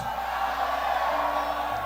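A church congregation shouts praise to God together, a continuous loud mass of raised voices and whoops filling the room.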